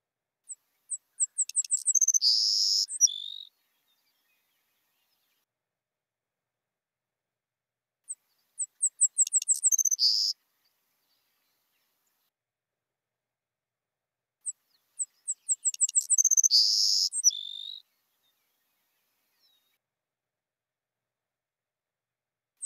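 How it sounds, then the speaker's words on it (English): A Savannah sparrow in grassland habitat sings three times, well separated, each song a few thin, high ticking notes building into a buzzy, insect-like trill; clear and isolated against silence. "The Savannah sparrow can be quite numerous in the right grassland habitat."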